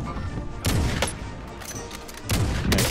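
Gunfire in the shooter game Warzone, with several loud, sharp bursts and cracks over a dense, noisy game backdrop, close and prominent, with no speech.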